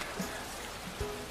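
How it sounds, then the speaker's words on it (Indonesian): Heavy rain falls steadily in a film scene, a dense even wash of drops on surfaces with a couple of faint low thumps and no voices. "Di tengah hujan yang sangat deras"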